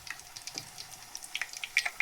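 Chonge batter dropped into hot oil, crackling in light, scattered pops and fizzes with a few sharper spits near the end, close and fairly quiet, with no talk.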